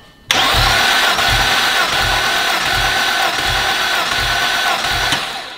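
The 12-valve VR6 turbo engine of a B5 Audi A4 cranks on the starter during a cylinder compression test, with a steady rhythmic chugging of compression pulses that starts abruptly, runs loud and close for about five seconds, then stops.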